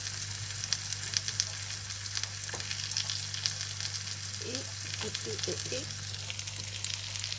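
Cheese-stuffed potatoes sizzling on a small barbecue, a continuous close frying hiss with scattered pops over a steady low hum, and a brief spoken word.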